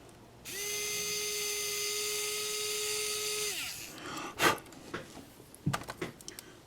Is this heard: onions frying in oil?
no